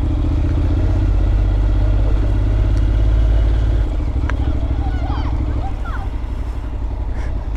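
Suzuki Address scooter engine running steadily up close with a loud, even low rumble, the tone dropping slightly partway through, and faint voices in the background.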